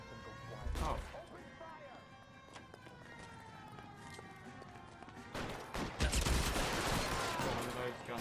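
Gunfire in the 1940s detective game L.A. Noire: sharp bursts of shots at the start and a denser volley toward the end, set against a siren-like wail and game noise, with a voice talking.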